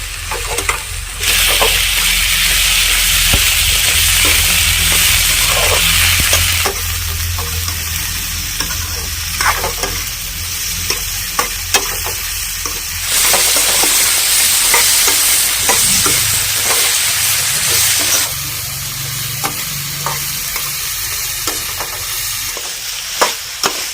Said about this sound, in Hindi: सेम को भी हमने डाल दिया है और चला के आलू की और सेम की कर लेते हैं फ्राई